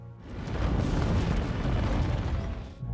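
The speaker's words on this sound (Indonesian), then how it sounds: "Ledakan itu pun membunuh sang ratu" A film explosion effect: a deep, loud, rumbling blast that swells quickly and holds for a few seconds before fading, heard alone without talk.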